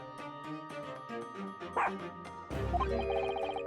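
Game music with a playful melodic loop plays while a dog in The Great Ace Attorney: Resolve gives a short bark and yip, then a bright musical sting swells underneath.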